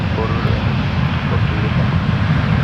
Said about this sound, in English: And it was given its takeoff clearance.